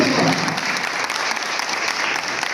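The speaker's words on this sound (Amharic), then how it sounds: "አንዴ የክብር ጭብጨባ ተነሳችሁ ይጠይቃለን።" A standing ovation of honour at an athletics coaching course graduation ceremony in a hotel, loud dense clapping from the audience filling the room, with a few voices faintly mixed in.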